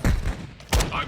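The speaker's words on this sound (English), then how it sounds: "I'm taking fire." Gunfire in the video game Warzone 2.0 on Ashika Island, two close bursts of shots about half a second apart, with game noise around them.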